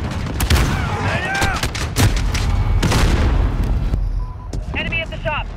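Explosions and heavy gunfire in the Call of Duty video game, with several booming grenade blasts and rapid shots layered over a dense battle din, plus a brief whistling effect near the end.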